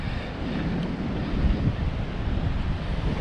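Steady ocean surf breaking close by, a continuous broad roar buffeted by wind against the microphone, with no voices.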